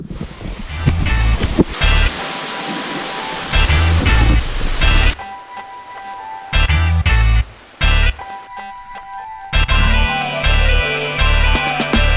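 Rushing water roars loudly in bursts as a GoPro tumbles over a waterfall, the sound cutting between dense, churning noise and quieter, muffled stretches as the camera goes under and resurfaces.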